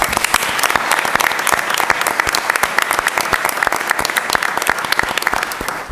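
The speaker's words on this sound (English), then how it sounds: "please, again, join me in giving them a huge round of applause" Audience at a school district board meeting applauding teachers, loud close clapping with sharp individual claps standing out from a dense, steady round.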